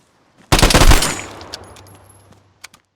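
A loud burst of automatic gunfire rips out in the video game Vigor, a rapid volley of close shots that fades into a trailing echo, with a couple of faint isolated clicks afterward.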